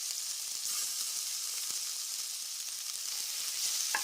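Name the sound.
onion and garlic frying in oil for tomato chutney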